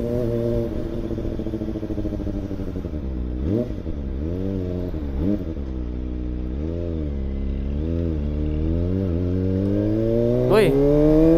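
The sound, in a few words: Kawasaki ZX25R motorcycle engine revving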